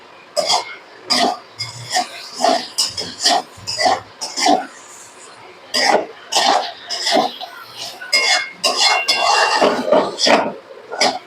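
Vegetable fried rice with ground black pepper is stirred in a pan, a steady rhythm of close metal scraping and clinking strokes repeating throughout without speech.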